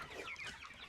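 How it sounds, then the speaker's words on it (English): Cornish cross chickens about four weeks old cluck steadily inside a brooder, several close birds calling over one another in a dense, continuous flock chatter. "These are our older chickens in here."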